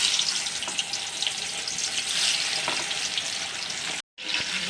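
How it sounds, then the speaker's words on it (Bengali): Boiled, cut small potatoes frying in oil for chhanar dalna, giving a steady, close, dense sizzle that breaks off for a moment near the end. No one speaks. "আলুগুলো আমি ভেজে নিচ্ছি। আলুগুলো লাল করে ভাজা হবে।"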